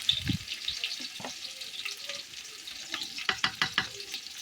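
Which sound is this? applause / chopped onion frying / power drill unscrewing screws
chopped onion frying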